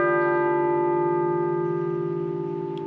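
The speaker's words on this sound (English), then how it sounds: "The church towers contain a little carillon which is linked to the shop, not the shop, the clock even" The small carillon in a Maastricht church tower, linked to the clock, rings out the half hour with a sustained bell tone whose rich overtones slowly decay, heard alone and clearly.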